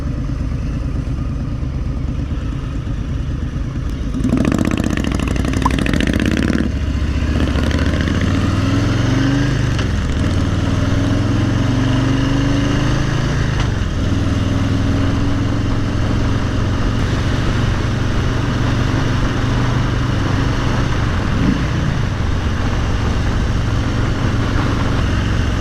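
Harley-Davidson Street Bob (FXBB) motorcycle engine running steadily while riding, a continuous loud low rumble with rising and falling pitch as it shifts through gears, no talking.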